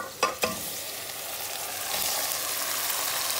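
Boiled chicken drops into a hot pan of sautéed aromatics for adobo. A couple of clattering hits come first, then a steady, close sizzling frying sound.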